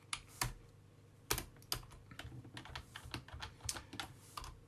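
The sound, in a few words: typing on a computer keyboard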